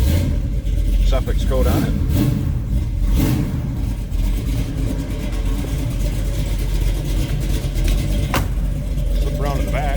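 A 1970 Chevrolet Nova with a 454 big-block V8 and Flowmaster exhaust idles steadily with a deep, throaty rumble, a brief rev swelling near the start, while someone talks over it close by.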